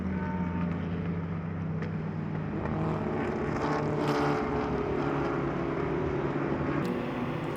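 Vintage race cars roar past at the Sonoma Speed Festival, a sustained engine drone with shifting pitch that swells slightly midway, heard from a distance without talk.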